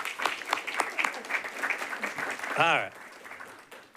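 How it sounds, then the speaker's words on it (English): Applause from a planning commission meeting audience for a departing staff member, a patter of scattered clapping under someone talking, fading toward the end. "Let's give her a round of applause"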